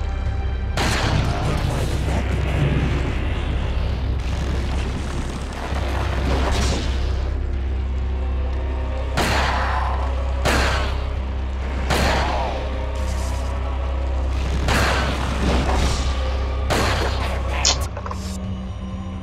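Repeated loud gunshot bursts from the video game Resident Evil 4 HD Edition, irregularly spaced over a constant low rumble, with a voice talking in Hindi between shots.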